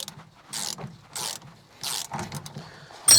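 A ratchet tool loosening a fastener, several short bursts of rapid clicking separated by pauses, close and moderately loud, with a brief metallic clatter at the end.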